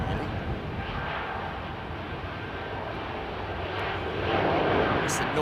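Airliner engines spooling up at London Heathrow Airport, a broad, loud rushing roar that holds steady and swells slightly toward the end, with faint talk in the background.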